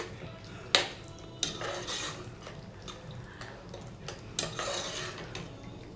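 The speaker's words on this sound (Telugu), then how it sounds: "మరొకసారి అంతా కూడా నీట్గా మిక్స్ చేసుకోవాలండి." A spoon scrapes and clinks against a pot while duck majboos is stirred, several sharp metallic knocks over a soft background of gentle sizzling, fairly quiet and close.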